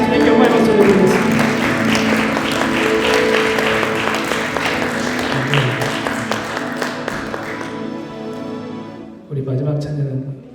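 A church congregation applauds loudly and steadily during an Easter service, with sustained worship music underneath; the clapping fades near the end as music continues.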